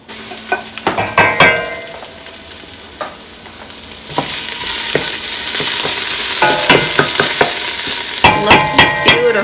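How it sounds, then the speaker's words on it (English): Garlic dropped into a pan of frying golden onions for a seafood cioppino, loud close sizzling with repeated scraping and clinking stirs, no talk. "we're going to put the garlic in"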